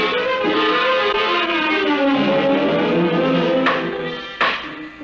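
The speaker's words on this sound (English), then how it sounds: "The wires were still humming softly." Sustained electrical hum of telephone wires as a radio drama sound effect, a steady buzzing drone with layered harmonics holding for about five seconds, with a brief sharp click near the end.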